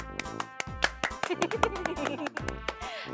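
People clap in uneven bursts of sharp, close claps mixed with other tonal sounds, short and lively rather than sustained applause.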